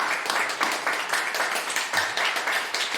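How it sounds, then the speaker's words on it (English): A live podcast festival audience bursts into sustained applause, a dense, even roar of many hands clapping close by with only faint voices beneath. "Round of applause for yourselves and for Red for doing the podcast"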